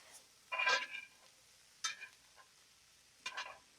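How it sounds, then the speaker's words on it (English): Ground beef being stirred with spices in a skillet, three short scraping, sizzling strokes spaced a second or so apart, quiet and close. "Now we're going to stir those in there really good."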